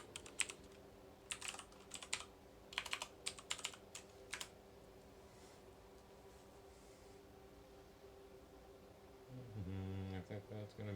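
Someone types on an old computer keyboard in quiet, uneven bursts of clicks. A low electronic hum runs underneath, and a louder buzzing tone rises near the end.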